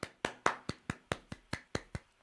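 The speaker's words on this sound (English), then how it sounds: "round of applause." About ten evenly spaced hand claps, close and fairly quiet, from a small audience giving a round of applause.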